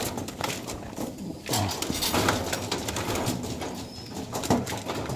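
Pigeons coo softly at close range amid rustling and handling noises, with low murmuring calls recurring through the clip.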